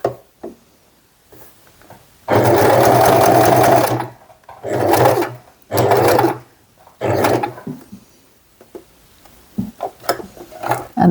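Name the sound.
sewing machine stitching a bag strap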